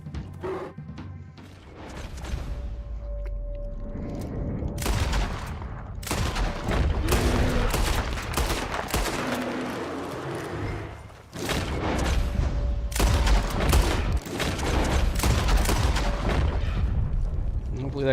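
Gunfire in the Red Dead Redemption 2 video game rings out as repeated loud shots and bursts in two dense volleys, over game sounds and a brief dip in the middle.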